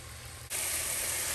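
Ground beef sizzling in a hot pan, a loud, steady hiss that swells abruptly partway through and holds without pause.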